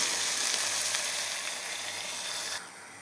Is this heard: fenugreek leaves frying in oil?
yes